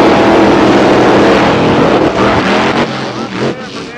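Monster truck engines roar loudly and continuously during a race at a monster truck event, with a dense, heavy mechanical rumble that eases slightly toward the end.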